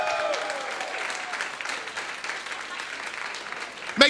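Clapping and cheering from a small online comedy-show audience, a moderate continuous patter of hands with scattered voices over it and a brief sharp burst near the end.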